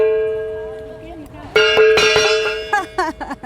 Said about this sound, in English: when you sound the gong